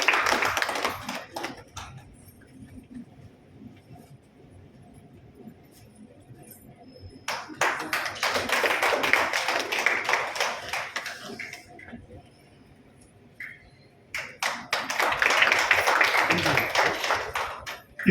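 Audience applause breaks out at a felicitation ceremony for an anniversary celebration, with dense clapping bursts rising twice and then fading, alongside scattered claps in between.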